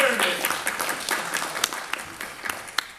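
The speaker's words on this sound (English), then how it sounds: "Let's give a big round of applause for our many service." An audience gives veterans a round of applause at a Sweet 15 celebration at Oxnard College. The clapping is dense and steady, starts loud and gradually thins out.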